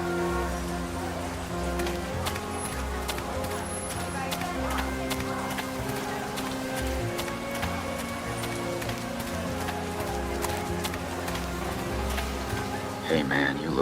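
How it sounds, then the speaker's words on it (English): Rain falls steadily in the video game World of Goo 2, a continuous patter under a looping musical bed with low tones, lasting throughout without pause. "I turn up my collar against the rain."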